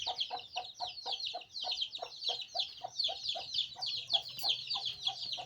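A large hen tied up near village farm fields clucks over and over in a steady, rapid rhythm, fairly faint and with no talk.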